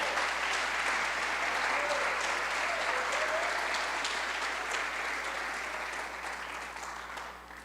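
A church congregation applauds during a sermon, a dense sustained wash of clapping from many hands that carries steadily, then slowly fades toward the end.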